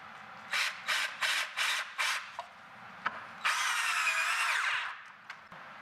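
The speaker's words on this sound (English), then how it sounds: "now I'm screwing the top down to this 2x4 right here with 2 1/4" screws from underneath so you don't see them" Power drill driving 2 1/4 inch screws up through a countertop top into a 2x4 while building a wall pass-through: five short whirring bursts in quick succession, then one longer rising drive, close and clear with no talk.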